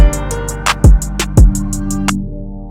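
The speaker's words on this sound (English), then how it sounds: "Now to get the generic 2-step hi-hat, I'm just gonna fill every 2 steps." A generic 2-step hi-hat pattern programmed in FL Studio ticks in crisp, evenly spaced hits over a soft melodic backing, repeating through the short loop.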